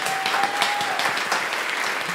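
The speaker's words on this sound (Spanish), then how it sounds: "¡Aplausos!" Loud, dense applause from a podcast audience, many claps blending into a continuous roar across the whole short stretch, close and steady.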